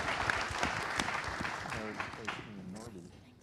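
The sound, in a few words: audience applause for FaceMe at LAUNCH Festival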